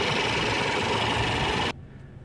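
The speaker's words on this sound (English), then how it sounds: "So what you are looking at here is the Mercedes M274 engine." A 2017 Mercedes-Benz E300 4MATIC with a 2-liter turbocharged M274 four-cylinder idles in a steady, dense hum that cuts off abruptly near the end, leaving quieter background.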